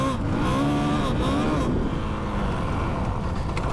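A 2022 450RL dirt bike engine revs up and holds a steady, loud drone close by, its pitch climbing and then settling as the throttle opens, with someone talking over it at first.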